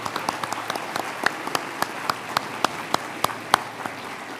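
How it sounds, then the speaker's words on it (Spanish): Applause from a gathering at a presidential cabinet event with Javier Milei, a sparse, rhythmic clapping with distinct sharp claps standing out over a softer continuous patter. "Bueno, un aplauso."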